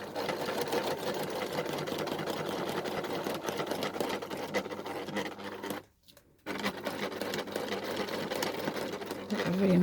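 A domestic sewing machine stitching a fabric hanging organiser forwards and back, a steady buzzing whir close by that stops briefly for a moment before running on.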